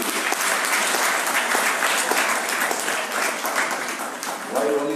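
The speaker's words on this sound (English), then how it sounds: "Why only they are clapping," An audience applauds in a meeting hall, a dense, continuous wash of many hands clapping that stays loud throughout, with voices faintly mixed in.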